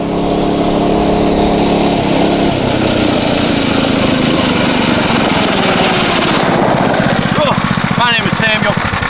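A small mini bike engine runs loud and near with a rough, buzzing idle that rises and sputters, while someone talks over it throughout.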